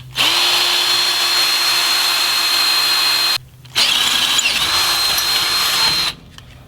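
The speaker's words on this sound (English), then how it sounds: "I'm going to drill my hole first, since that'll be easier to do before it's bent" A power drill bores a hole in metal with a small bit while building a rear cargo divider for a Jeep: two sustained, loud, close whining runs separated by a brief pause.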